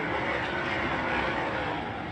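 Sprint car engines roar in a dense, continuous wall of sound at a dirt track race event, loud and sustained throughout the short stretch with no distinct talking.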